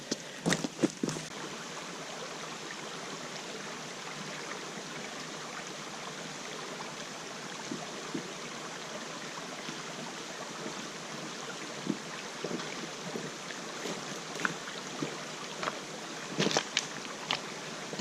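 A small mountain creek flows with a steady, soft rushing wash, broken now and then by a few faint clicks and knocks nearby and no talk.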